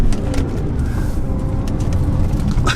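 A BMW E46 M3 driving on the road in sport mode, a steady low road and engine rumble heard from inside the car, continuous and fairly loud with no talk.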